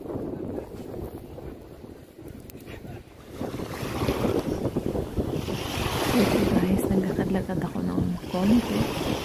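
Gusty wind buffets the microphone on an Italian beach, with surf washing in underneath; the rumble builds and grows stronger over the second half.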